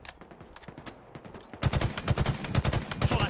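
Rapid gunfire crackles in a Halo Infinite ranked capture-the-flag match, with scattered single shots at first and then a dense, loud burst of automatic fire.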